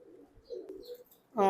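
Teddy pigeons in a shed give a soft, low cooing murmur over about a second, then a louder, brief harmonic call bursts in at the very end.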